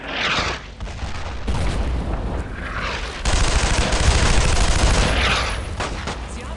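Dense, sustained gunfire and booms from a World War II squad firefight in the video game Brothers in Arms, with rattling bursts throughout and a louder volley toward the middle, under a faint voice.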